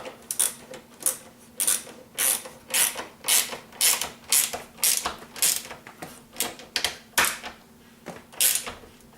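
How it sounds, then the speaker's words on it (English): Wrench tightening a bolt on a homemade kitchen trash bag holder, a series of about sixteen evenly spaced ratcheting clicks and creaks, close and distinct, over a faint steady hum. "I just use a wrench here to tighten down that bolt"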